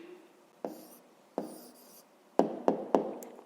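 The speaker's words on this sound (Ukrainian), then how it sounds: "зараз записуємо відповідь, пишемо відповідь" A pen scratching an answer onto paper in short separate strokes, close and quiet, with a few sharper marks near the end.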